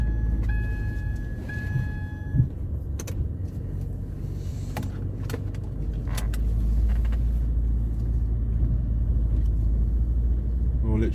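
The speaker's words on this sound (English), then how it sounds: "I will take it for a little ride up and down the street" A 2008 Ford Focus Cabriolet pulling away and driving slowly down a street, heard from inside as a steady low road rumble with a few clicks early on; a person speaks over it.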